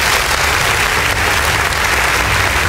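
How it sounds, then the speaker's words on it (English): Loud, sustained clapping from a school audience after a lively flamenco-style Grade 2 performance representing Spain, a continuous wash of hands at close range. "Let's give them a big round of applause"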